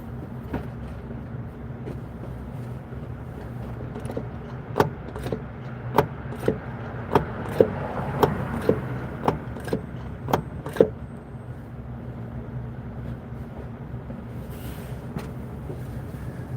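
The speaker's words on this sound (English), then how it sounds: "I'm gonna go pump the clutch" A car's clutch pedal is pumped repeatedly during clutch work, giving about seven sharp, evenly spaced clicks over a steady background hum.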